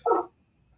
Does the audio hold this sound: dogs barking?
yes